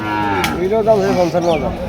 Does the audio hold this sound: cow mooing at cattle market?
yes